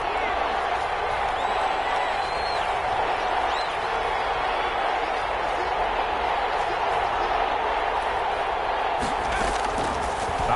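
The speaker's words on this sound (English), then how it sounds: "the crowd getting into it as we come up on a big 3rd down" A stadium crowd in a PS4 football video game roars in a steady, dense wash of cheering that holds loud for the whole stretch, swelling slightly toward the end, with no clear voices on top.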